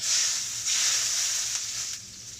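Beef rouladen searing in a hot pan over high heat, a steady bright sizzle that holds close and loud throughout with small shifts in intensity.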